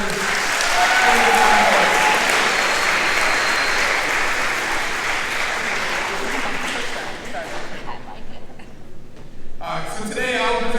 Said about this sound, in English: So let's give them a round of applause for